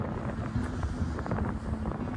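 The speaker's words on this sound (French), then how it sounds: "Le vent souffle." Steady wind rumbling across the microphone on the trail to Roque Nublo, Gran Canaria, a low continuous buffeting with no voices, constant in level throughout.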